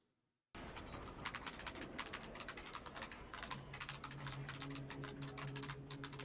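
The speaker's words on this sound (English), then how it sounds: "does she have a very strange way of typing?" Rapid typing on a computer keyboard, a dense run of crisp key clicks close up after a brief silence, with a faint steady tone underneath and no voices.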